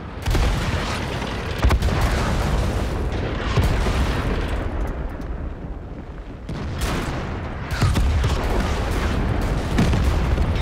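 Tank cannon shots and explosions from the World of Tanks video game, featuring a Leopard 1 and IS-7, come as dense repeated booms and blasts filling the whole stretch, loud and close, with brief dips between volleys.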